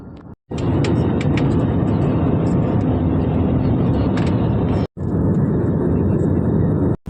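A passenger airplane cabin on a flight from Shirdi to Bangalore fills with a loud, steady engine and air roar, broken by two brief near-silent cuts.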